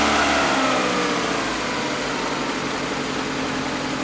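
A car engine runs steadily at idle after starting, a constant close mechanical rumble with no talk over it.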